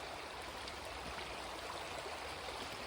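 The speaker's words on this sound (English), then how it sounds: "the Kennebec River," The Kennebec River flows steadily on a fine day, heard as a constant broadband rush of moving water with no talking.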